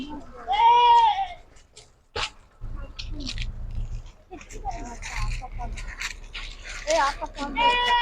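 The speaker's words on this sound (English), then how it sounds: "Whose goat is there? Huh? They the goats. They are goats. So many goats are there." Several goats bleat loudly and nearby in quavering cries at the start and near the end, with people talking in between over a low background hum.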